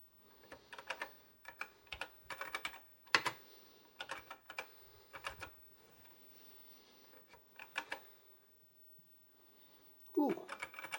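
Keys tapped on a TRS-80 Model 1 computer keyboard with some faulty keys, close-up clusters of quick clicks in short bursts separated by pauses, with a louder clack near the end.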